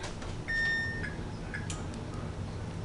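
An oven's electronic control panel chirps as it is switched on: one longer tone followed by a few short, quiet beeps in an otherwise hushed kitchen.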